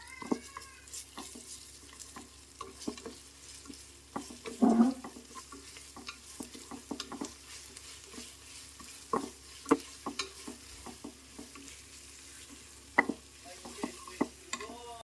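Fresh ginger garlic paste frying in a pan for chicken biryani, with steady sizzling and repeated scraping stirs of a spoon, close and fairly quiet, no talking.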